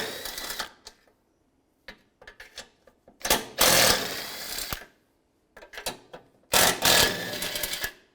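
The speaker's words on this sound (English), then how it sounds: "Take those bolts out." A 13mm socket ratchet removing the cooling fan assembly bolts on a 2006-2011 Cadillac DTS, heard as close bursts of rapid mechanical clicking that start and stop several times, with short quiet gaps between them.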